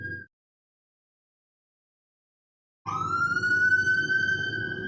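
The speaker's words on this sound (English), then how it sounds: "Sorry about the sirens, guys." A wailing emergency siren starts abruptly after a stretch of silence, loud and close, sweeping over a rumbling background.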